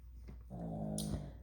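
A dog's low, throaty growl with a snoring rasp, close and quiet, swelling for about a second before a short snort, with no talk.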